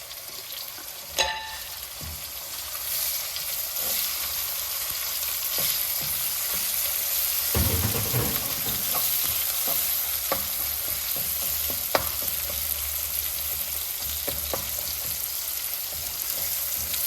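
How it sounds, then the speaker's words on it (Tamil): Onion and green garlic sautéing in a pan, a steady close sizzle and crackle with occasional stirring clicks and one sharp knock early on, with no talk. "வெங்காயம் பூண்டு இதெல்லாம் வதங்கினா தான் நல்லா இருக்கும்."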